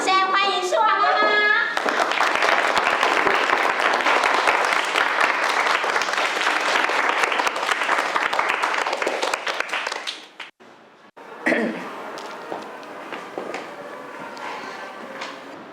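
A classroom audience of students gives loud, dense applause for a storytelling mother, sustained for about nine seconds, with a voice heard briefly before and speech resuming after it fades.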